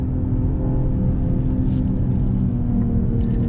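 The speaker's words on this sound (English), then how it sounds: "We're letting the transmission shift in Sport Plus mode." Mercedes-AMG GLE 53 engine in Sport Plus mode, a steady low rumble with the transmission holding lower gears, continuous and close with no clear rev spikes, heard from inside the cabin.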